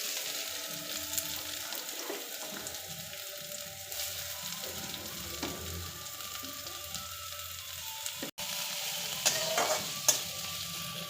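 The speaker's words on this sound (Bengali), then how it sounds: "তেল দিয়ে দিয়েছি পরিমাণ মতো একটু জিরে দেওয়ার পরে ভালো করে নেড়ে চেড়ে পেঁয়া একটু আদা কুচি আর একটু পেঁয়াজ কুচি দিয়ে দিলাম" Cumin seeds, chopped ginger and chopped onion fry in oil in a pan, a steady close sizzle with occasional stirring scrapes and one brief dropout near the end.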